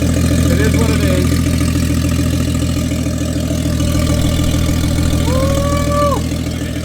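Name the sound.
Toyota 1JZ engine with single turbo kit idling at first startup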